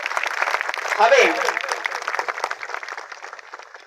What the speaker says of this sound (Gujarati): આ સ્વાગતને તાળીઓના ગણગણાટથી વધાવી લેશો